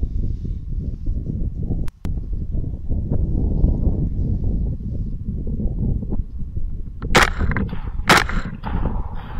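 A rifle firing 92 gr Grendel Hammer Bullet rounds at wild pigs cracks twice in sharp, loud reports about a second apart, over a rumbling outdoor background with a faint earlier snap.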